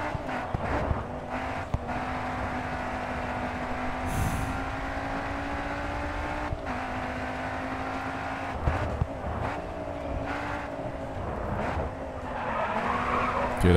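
A damaged race car in the video game Grid 2 holds a steady engine drone with repeated tire skids and squeals, and brief quiet voices can be heard underneath.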